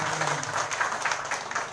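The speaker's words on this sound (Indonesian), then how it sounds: "Tepuk tangan dulu untuk kita semua." An audience at an official gathering with the Jayapura regent claps in a dense, continuous patter of many hands, loud and sustained throughout with no pauses.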